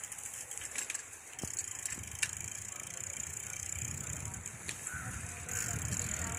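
Riding a Roadeo Turner 21-speed bicycle outdoors: a quiet, steady rolling hiss with a few faint ticks and clicks from the drivetrain, and soft ambient outdoor noise around it.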